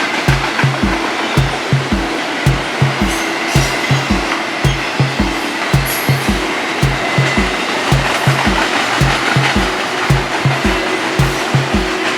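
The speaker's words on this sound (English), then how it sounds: "The train is here" A train passing close by the trackside, its wheels beating out a steady, regular rhythm of heavy thumps over a continuous rushing roar that holds loud and even for the whole stretch.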